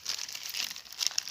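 Thin plastic bag crinkling in quick, irregular bursts of rustle while makeup is packed into it for a summer trip, close and fairly quiet, with no talking.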